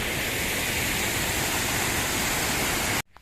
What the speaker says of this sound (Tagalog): Tatawid kami ulit sa ilog.